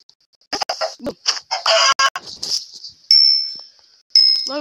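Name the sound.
chicken clucking in the video game Minecraft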